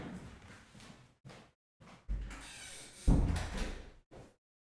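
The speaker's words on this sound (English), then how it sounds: "Let me just close the door 1 second." An indoor room door being pushed shut, with a few short handling bumps and rustles followed by a firm closing thud near the end, heard close with no talking.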